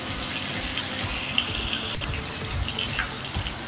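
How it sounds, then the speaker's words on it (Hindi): Water is poured into a pot of beef being roasted, giving a steady hissing, splashing rush that carries on evenly throughout. "तो अब मैं पानी डालने लगा हूँ।"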